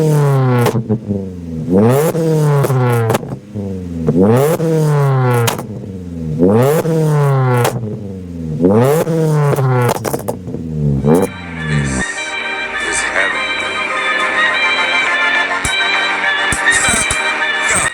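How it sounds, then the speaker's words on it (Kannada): A modified stage 2 tuned Maruti Swift revs hard through its exhaust, with about seven loud rising-and-falling blips in quick succession before settling into a rougher, busier engine drone. "ಅದಕ್ಕೆ ಮುಂಚೆ ಎಕ್ಸಾಸ್ಟ್ ಸೌಂಡ್ ಕೇಳಿಸ್ಕೊಳ್ಳೋಣ ಬನ್ನಿ"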